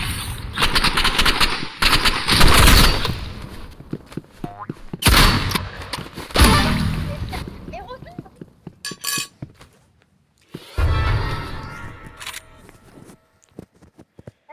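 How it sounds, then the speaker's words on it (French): A burst rifle fires in the video game Rivals: several sharp, loud clusters of rapid shots with mechanical clicks between them, separated by short quiet gaps. "Vas-y, le fusil à rafale"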